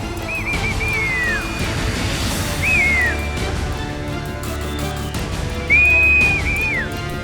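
As an avalanche sweeps toward homes in snow-covered mountain country, people sound three sharp, loud warning whistles, each bending downward in pitch, over a low, continuous rumble.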